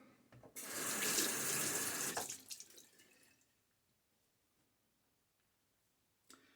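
Tap water runs into a sink before a shave in a steady close rush for about two seconds, then cuts off, leaving a near-silent room and a brief faint clatter at the end.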